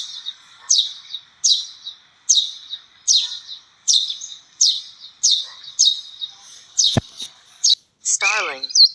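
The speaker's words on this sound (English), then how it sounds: "Sparrow." A sparrow gives a steady series of short, bright chirps at a regular pace, followed near the end by a sharp click and a rising, wavering trill.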